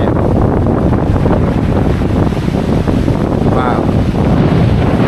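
Strong onshore wind off the sea in Cyprus buffets the microphone in a loud, steady rumbling roar, with a voice briefly exclaiming.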